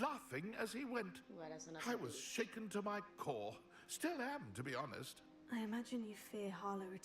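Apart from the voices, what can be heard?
No everyday noise stands out behind the speech.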